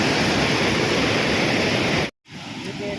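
Loud, steady rush of churning water at Bhola Ki Jhal canal falls in Meerut fills the clip, cutting out abruptly for a moment before the roaring flow resumes.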